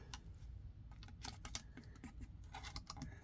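A paper bag is torn by hand to make a junk journal pocket, giving close, crackly ripping in quick irregular bursts throughout, with no talking.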